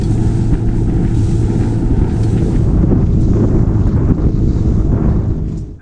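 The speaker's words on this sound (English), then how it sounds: "the wind for the day, it started to blow again" Strong wind blowing over the sea in Kilbrannan Sound off Arran, a steady loud roar and buffeting with no talking, fading slightly at the very end.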